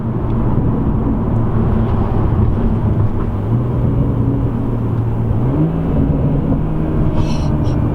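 A BMW M140i with an M Performance exhaust drones steadily on overrun with low rumbling exhaust, the pitch shifting slightly as revs drop, no voices present.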